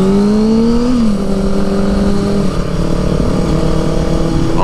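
A motorcycle rides along outdoors, its engine pitch rising and settling as the rider shifts, a steady loud drone close to the mic.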